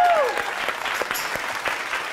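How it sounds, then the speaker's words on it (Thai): Applause from a live audience at a Thai comedy troupe show, a steady burst of many hands clapping that follows a voice and continues through the short moment. "ขอเสียงปรบมือ"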